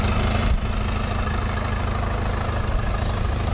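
A New Holland 3630 4WD tractor sits idling close by with a steady, low, rumbling diesel engine, running evenly without change in pace or any talking.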